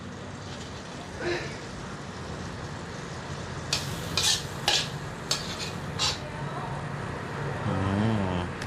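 Cabbage stir-fried with fish sauce and garlic in a pan: a steady sizzle with scraping and clinks of a spatula against the pan, and faint background sound throughout.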